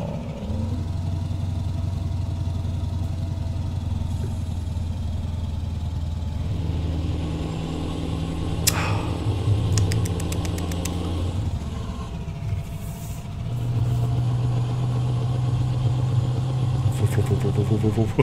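A Scania R580 V8 truck engine in Euro Truck Simulator 2 drones steadily and deeply throughout, with a faint clack in the middle, a short dip, and then a firmer, stronger pull toward the end.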